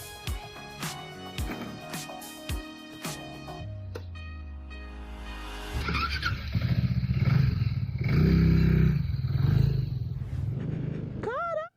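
Zontes 368G maxi scooter pulling away in Brazil, a few low clanks and starts giving way to a loud, steady engine roar and wind rush that builds and holds as it rides.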